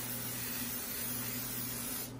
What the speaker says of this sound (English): so we're gonna spray the pan